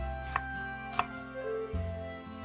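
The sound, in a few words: dicing onion into cubes with a knife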